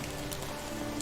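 Steady rain falls through a wooded area in the medieval survival game Medieval Dynasty, a dense, even hiss of drops on leaves and ground continuing unbroken and without any talk.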